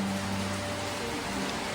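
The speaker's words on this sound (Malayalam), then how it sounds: "നല്ല മഴ" Steady rain falls in the morning, a constant soft hiss of drops on surfaces close by, with no voices over it.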